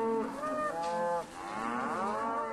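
Cattle on a ranch cattle drive low loudly in overlapping, drawn-out moos, several animals calling close by one after another with no talk.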